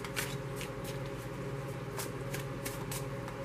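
A tarot card deck is shuffled in rapid riffling bursts, close and crisp, repeating about every half second over a soft steady background hum.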